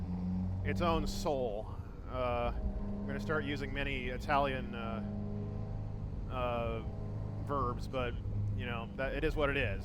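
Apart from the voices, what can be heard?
Ferrari F355 V8 engine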